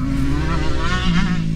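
A motocross dirt bike engine drones loud and steady from a mic on the bike while riding, with a rough, buzzy tone and a slight pitch shift.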